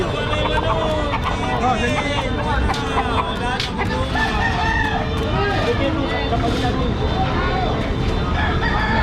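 Roosters crow loudly and repeatedly over constant clucking from many chickens kept in coops, while people talk and murmur nearby.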